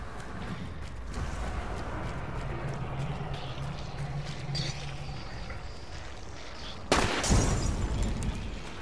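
A frag bomb explodes in a video game: one sudden loud blast near the end cuts through steady background clatter and footstep-like thumps, followed by a rumbling tail.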